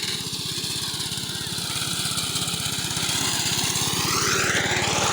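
A lawnmower with a 5.5 horsepower Honda engine cutting grass in a park in Pakistan, a loud, steady close-up engine drone with a fast rhythmic pulse that swells slightly toward the end, with no talking.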